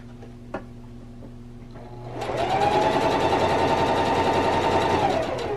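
Sewing machine stitching fabric napkins, a steady rapid mechanical whir that starts after a couple of seconds of quiet room tone and runs continuously, close and loud.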